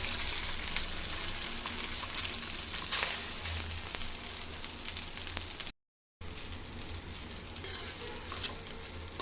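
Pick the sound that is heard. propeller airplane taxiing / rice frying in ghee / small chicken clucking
rice frying in ghee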